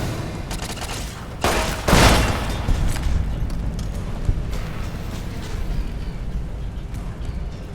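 Gunfire from a Mark II turret in a video game: a dense, continuous fusillade of rapid shots with a heavier burst near the start, steady and fairly loud throughout.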